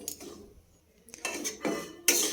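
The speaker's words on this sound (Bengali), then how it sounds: "কড়াই গরম হয়ে গিয়েছে, দিয়ে দেব সুজি। খুব ভালোভাবে নাড়াচাড়া করে নেব।" Metal spoon scraping and clinking in a hot wok as semolina is stirred and dry-roasted, in short bursts of scraping separated by brief pauses, close and moderately loud with no talking.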